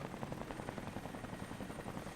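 Helicopter arriving in Rise of the Tomb Raider, a faint, steady rotor thump pulsing rapidly and evenly beneath a broad hiss of ambient noise.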